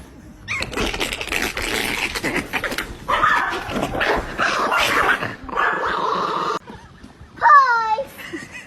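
A dog barks and whimpers in busy bursts, with a high whining yelp near the end, amid chatter and household noise where people talk.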